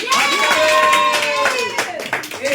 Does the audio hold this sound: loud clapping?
yes